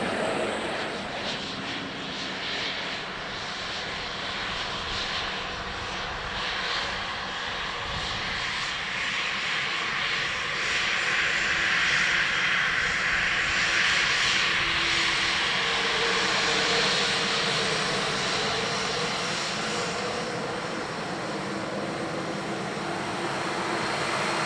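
An aircraft landing at Dublin Airport, a broad steady engine roar that swells and holds for well over twenty seconds, heard from a distance in open air with no talking.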